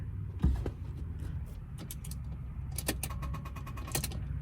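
A Dodge ProMaster diesel van with a bad starter fails to start, with a jangle of keys and a few soft mechanical clicks. There is no cranking or engine catching, only quiet rapid ticking close by near the end.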